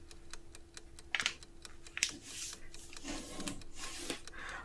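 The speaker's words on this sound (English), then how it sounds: "Let's fold the paper in half first." A sheet of US letter-size paper is folded in half, with crisp rustling, rubbing creases and a few sharp crackles up close at low volume.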